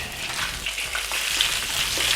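Lamb cutlets sizzle and crackle steadily in a hot pan, a continuous bright frying hiss with small pops throughout.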